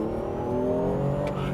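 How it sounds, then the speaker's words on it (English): A car engine revs up as the driver accelerates, a loud, close, rising whine of engine tones climbing steadily in pitch with no voices over it. "when you start driving it and start putting your foot down on the throttle"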